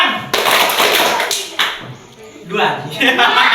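Children clap together in a classroom clapping game, bursts of crisp, closely spaced claps in short rhythmic sets separated by brief pauses with voices in between.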